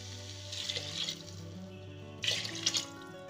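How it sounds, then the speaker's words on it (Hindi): Water splashes into a pot of rice for masala bhat in two short pouring bursts, with a gap between them, over a soft steady background. "इसमें 2 कप पानी ऐड कर देंगे।"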